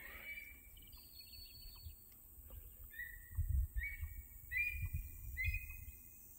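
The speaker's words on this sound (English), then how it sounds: "what animal is that? Bird." Faint, distant bird calls outdoors: a few short, high whistled phrases repeated with pauses, over soft rustling and low background rumble.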